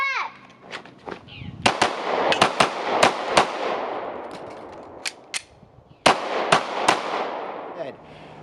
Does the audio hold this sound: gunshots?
yes